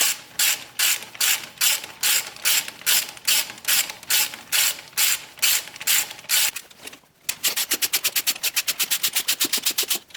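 A ratchet undoes the valve cover screws on a BMW R1150 motorcycle: close, crisp clicking strokes in a steady rhythm, then after a brief pause a faster, tighter run of rapid clicks.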